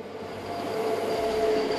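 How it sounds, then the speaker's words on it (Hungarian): A train on a mountain railway passes below, a steady rumbling rail roar with a faint high wheel squeal, growing slightly louder through the short stretch. "Épp most halad el alattunk egy vonat."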